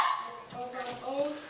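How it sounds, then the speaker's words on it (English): A dog gives short yips and a whimpering bark near by, mixed with a person's voice. "Sessie, no barking."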